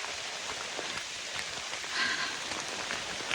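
Heavy, steady rain pours on hikers drenched on the Appalachian Trail near Little Rock Knob, a dense continuous patter of drops with no voices.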